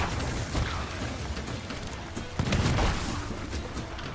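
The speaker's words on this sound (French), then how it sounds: "C'est qui tire au canon, là? Pourquoi tu tires au canon, là?" Ship cannons firing in the pirate game Sea of Thieves, heavy booms and bursts heard at a distance, the largest near the middle, over a busy wash of game sound and sea noise.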